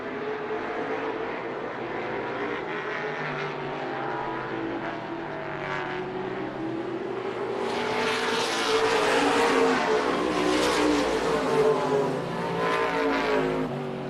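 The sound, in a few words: race cars racing at Colorado National Speedway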